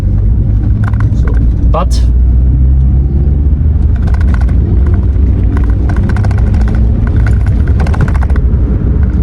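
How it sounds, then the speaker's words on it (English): A small, lightweight Renault Twingo accelerates gently from about 25 to 50 km/h, with a low steady engine hum and road rumble heard from inside the car under ongoing talk. "This was a pull from like 25 kilometers an hour up to 50."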